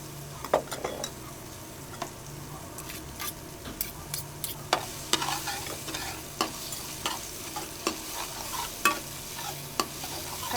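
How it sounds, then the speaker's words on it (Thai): Chopped garlic stir-fried in a hot wok, with a steady background sizzle and frequent sharp clicks and scrapes of a utensil against the pan, close and moderately loud, with no talking. "ผัดกระเทียมให้พอหอมนะคะ"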